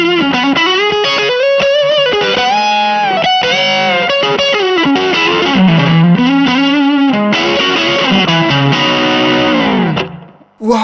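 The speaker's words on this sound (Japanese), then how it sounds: "ディストーションに近いぐらい結構歪むんですけど、でもなんか歪みのニュアンスはオーバードライブ" Electric guitar played through a tube overdrive pedal, heavily saturated almost to distortion, with loud sustained chords and bending single-note lines that ring continuously before cutting off near the end.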